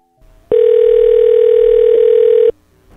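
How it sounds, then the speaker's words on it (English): Telephone dial tone while placing a call to a cell phone, a loud steady single-pitch tone lasting about two seconds, with quiet line noise before and after. "So let's give Mike a call"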